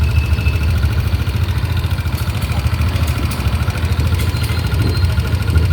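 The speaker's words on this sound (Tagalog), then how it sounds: "Ito yung may tama boss sa maingay na NMAX mo." A noisy Yamaha NMAX version 1 scooter engine idles close up, a steady low rumble with a faint ticking rattle running through it, alone without talk.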